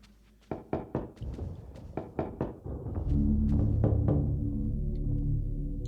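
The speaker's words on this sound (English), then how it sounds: "Knocking on this cask results in a hollow thud." In a video game, a wine cask is knocked on, giving seven or eight evenly spaced hollow wooden thuds, followed by a low droning ambient tone that swells in.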